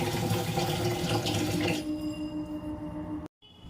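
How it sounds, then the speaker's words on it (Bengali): Rice being washed in water in a home kitchen, a steady close splashing and running-water wash that stops after a couple of seconds, leaving a faint quieter tail. "চাল নিয়ে এলাম, ধুয়ে নিই চালটা"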